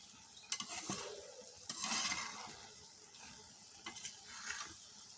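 Taro stems and small fish cooking in a pot as the lid comes off and the mix is stirred, soft sizzling with a few scraping, clattering bursts of the spoon, fairly quiet and close.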